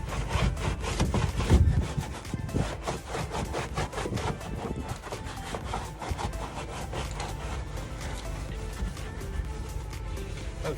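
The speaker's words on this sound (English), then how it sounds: "this has got a carpeted bit on this side, so we'll give that a quick rub" A brush or hand rubs back and forth over the carpeted side of a horse-box wheel safe in a steady, fast scrubbing rhythm that stays close and continuous throughout, with no talk.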